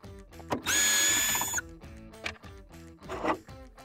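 A power tool spins briefly to back out screws from a SkyView HDX display, giving one loud whirring burst of about a second, surrounded by clicks, clatter and knocking of parts.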